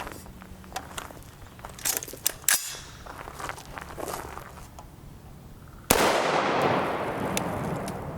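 A rifle with an 18-inch 6.5 Grendel upper and 1:8 twist barrel fires brass-case rounds: a couple of sharp, loud cracks outdoors, the second trailing into a long rumbling echo, between lighter clicks and handling noises.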